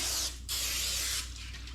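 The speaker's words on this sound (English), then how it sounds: "Spray it on both sides, because you do not want it to stick" Two bursts of hissing non-stick cooking spray from an aerosol can, a short one then a longer steady one, close up with a faint low hum beneath.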